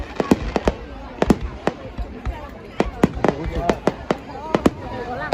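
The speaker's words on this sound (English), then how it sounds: "the night sky lit up with fireworks" Fireworks bursting over Hanoi on New Year's night, sharp loud bangs arriving in irregular clusters, some close together, with a crowd murmuring beneath.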